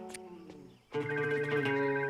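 Phone ringing in the wrestling RPG WrestleQuest, a soft melodic tone giving way to a louder sustained electronic ringtone chime, clear and without talk.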